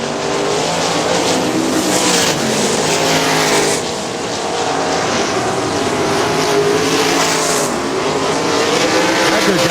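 410 sprint cars racing toward the checkered flag at Butler Battlegrounds dirt track in Quincy, Michigan, a loud sustained roar of several engines passing close with rising and falling surges throughout.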